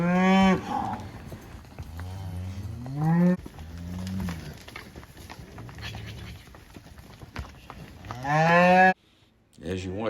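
Cows and calves moo loudly and repeatedly, close by, while the calves are sorted from the cows on horseback, with long drawn-out calls spread across the scene.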